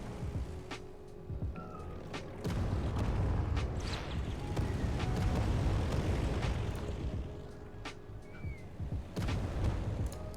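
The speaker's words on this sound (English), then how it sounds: "Let's carpet bomb Tokyo" Carpet bombing raid on Tokyo in a strategy game, heavy overlapping explosions and rumbling booms rolling continuously under dense battle noise, loud and sustained with scattered sharper blasts.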